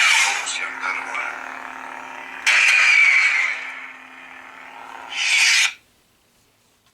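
A Saberforge Guardian Proffie neopixel lightsaber hums and swells with bright, buzzing ignition surges, a loud blade flare around the middle and another before abruptly cutting to silence.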